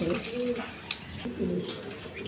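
American fantail pigeons, black-coloured, give low repeated coos close by, with people talking over them and a brief sharp clink partway through.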